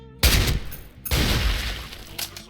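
Loud, close M14 EBR sniper rifle shots in the video game Special Force 2, two sharp booming reports about a second apart, each followed by a ringing decay, with a fainter third hit near the end.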